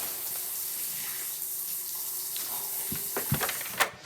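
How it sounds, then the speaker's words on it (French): Shower water running in a bathroom, a steady close hiss of spray that continues throughout, with a few knocks and bumps toward the end. "Bah ça fait 1 heure qu'il est sous la douche là."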